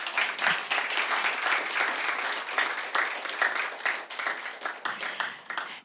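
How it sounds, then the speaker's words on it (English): A conference audience applauds its presenters at a crypto event at a new Tallinn headquarters. Many hands clap at once in a dense, loud and steady burst that thins out toward the end. "One huge round of applause to all our presenters for this conference"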